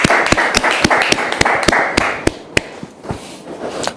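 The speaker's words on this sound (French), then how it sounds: "tous ceux qui sont sur le plateau ont applaudi pour vous dire qu'on vous aime très fort" A studio audience on a Christian television set applauds, a burst of close, uneven claps and taps that thins out over a few seconds, with no voices.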